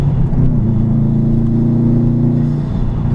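Subaru STI engine heard from inside while driving, a loud steady low drone with a faint rising whir, continuous and close with no talking.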